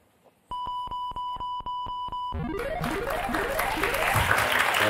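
Applause breaks out after a brief run of evenly spaced electronic beeps, a dense wash of clapping hands that swells and grows louder to the end.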